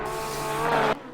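A Porsche 991 II GT3 R race car in Assetto Corsa Competizione at Monza, engine loud and close as it powers through a chicane with tire squeal, the pitch rising before cutting off abruptly.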